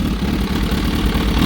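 Kawasaki ZH2 motorcycle engine idling after warm-up, fitted with a Turbo Smart blow-off valve and a BLR Tuning catch can, as a loud, close, steady low rumble with no talk.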